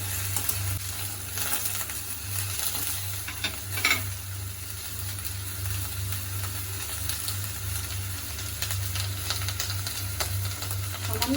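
Eggplant pieces frying in oil for a Bengali mulo chochori, a steady close sizzle with intermittent stirring scrapes and a constant low hum beneath, no voices.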